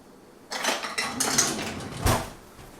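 Cutlery and kitchen utensils clink and clatter as a teaspoon is fetched from a drawer while preparing a keto dessert, a few close, sharp rattles with a louder clunk near the end.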